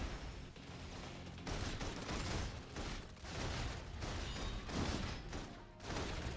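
Sustained bursts of automatic gunfire in the video game Love and Deepspace, dense rapid volleys rolling continuously with brief dips, loud and without speech.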